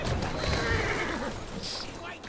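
A horse neighs loudly in a long whinny in Assassin's Creed Syndicate, with hooves clopping and a voice talking alongside.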